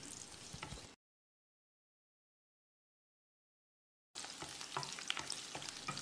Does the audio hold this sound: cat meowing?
no